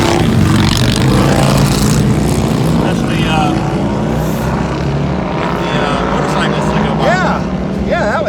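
An Audi TT Roadster's turbocharged engine pulls hard under acceleration, with top-down wind noise: a loud, continuous drone whose pitch climbs toward the end.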